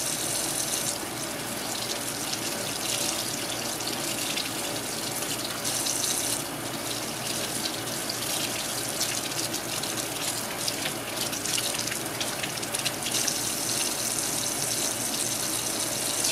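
Water running steadily from a tap while hands are rinsed at a sink, a continuous hissing splash at moderate level with no breaks.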